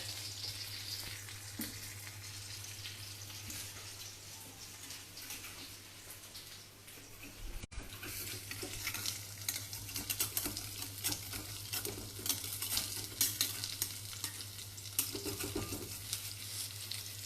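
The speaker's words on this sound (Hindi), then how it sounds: "अब मैं इनको एक बार पलट दूंगी और वापस थोड़ा सा पानी डालूंगी और फिर से कुक करूंगी।" Phara dumplings frying and being stirred in a pan, a steady loud sizzle with scraping stir noises and a brief break midway, no voices.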